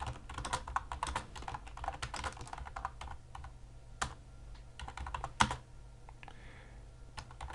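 Fast typing on a computer keyboard, with uneven bursts of close, crisp key clicks and a few louder strokes over a quiet room, no talking.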